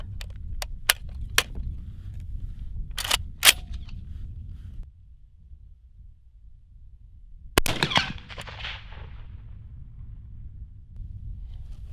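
Rifle shots fired through a scope at a distant target in an outdoor range setting, several sharp cracks early on and a louder burst of reports near the end over a steady low background rumble.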